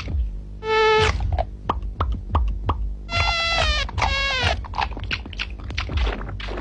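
Mosquitoes in an old Indian TV advert for All Out repellent whine in loud, close, high-pitched bursts that rise and fall, broken by short clicks and sharp accents.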